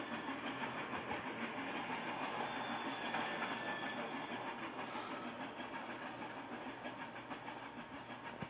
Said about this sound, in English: 4449 traveled on the Toledo line with a passenger train in tow.